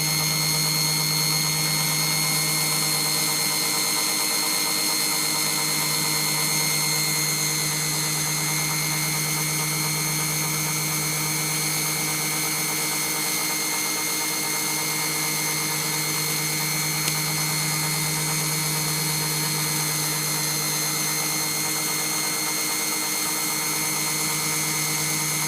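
Constant, loud power-tool drone from porting a 1972 VW Beetle 1200 cylinder head with 400 grit abrasive, a steady whirring hum running unbroken without speech.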